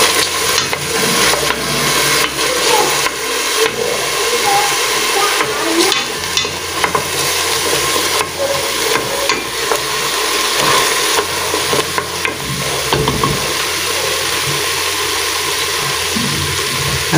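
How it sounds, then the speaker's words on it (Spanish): Peruvian aderezo seasoning base frying over low heat in a pan, a steady, loud continuous sizzle with occasional stirring scrapes throughout. "Siempre nuestro aderezo con un fuego bajito para que no se nos queme el aderezo."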